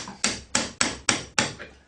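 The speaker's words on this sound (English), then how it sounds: "Then drive it in with a few taps from the hammer." A hammer drives a door hinge pin back into its hinge with five sharp, evenly spaced taps, close and loud, each one ringing briefly before the next.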